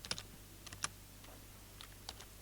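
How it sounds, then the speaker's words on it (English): Typing on a computer keyboard, a few scattered sharp key clicks in short irregular bursts over a quiet background hum, with no talking. "even before I finish typing"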